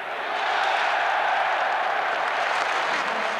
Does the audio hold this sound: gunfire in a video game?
no